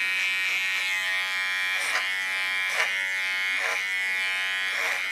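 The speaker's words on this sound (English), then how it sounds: "So I do this with a clipper and a comb." Electric hair clipper buzzing steadily while cutting hair at a woman's neckline, used with a comb, up close, with short rhythmic swells as the blades pass through the hair.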